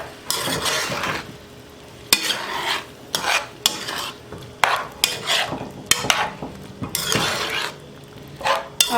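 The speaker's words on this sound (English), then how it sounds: "And we're going to stir this." Spoon stirring a one-pot mix of black beans, rice and ribs seasoned with sazon, repeated scraping strokes against the pot in irregular bursts with a light sizzle underneath, close and fairly loud.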